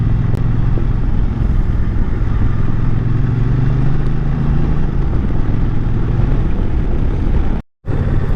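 A motorcycle rides along a road toward Ranthambore, its engine droning in a loud, steady rumble with wind buffeting throughout, broken by a brief dropout near the end.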